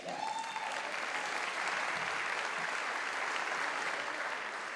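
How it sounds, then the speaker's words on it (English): An audience claps steadily and densely, a sustained round of applause inside a hall during a governor's State of the State address, with no talk over it. "The people clapping are the ones who work there."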